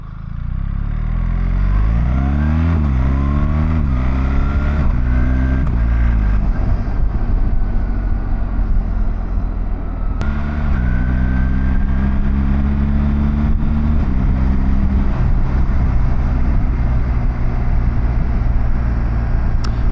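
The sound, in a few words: BMW motorcycle engine with automated shift assistant shifting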